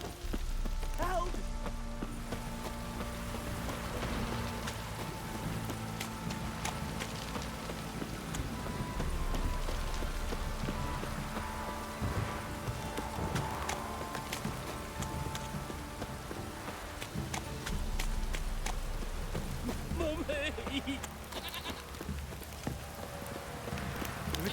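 Steady rain falls in the video game The Witcher 3, a constant soft patter heard alongside intermittent horse hoof steps and some game voices.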